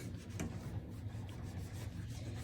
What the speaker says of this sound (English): So I'm gonna go ahead and wipe this part off.